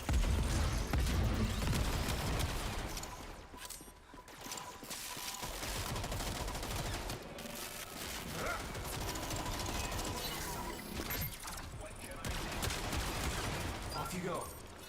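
Rapid, dense gunfire in a sci-fi shooter game, Warframe, with bursts of weapon shots and clattering mechanisms running continuously for about fifteen seconds at a fairly quiet overall level, with a voice talking over parts of it.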